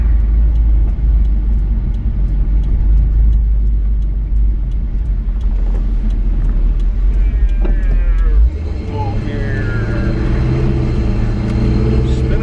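A 1984 Chevy truck's engine drones low and steady while driving on a wet road, then shifts to a deeper, rising pitch as it speeds up onto the highway with slightly higher revs, all fairly loud and close.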